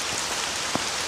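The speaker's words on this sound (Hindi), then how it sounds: "रास्ते पर केवल बारिश की आवाज और चारों तरफ खामोशी छाई हुई थी" Steady rain falls on a dark, quiet path at night, a dense close hiss that runs alone through the whole moment.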